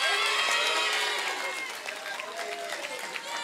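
Applause and crowd noise from a French-language televised debate audience cheering on a contestant, dense clapping loud at first then settling slightly lower, steady across the whole stretch.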